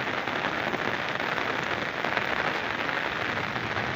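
Steady, dense rain pours over farm fields where a bull stands out in it, a constant close hiss of drops on surfaces with no pauses and no voices.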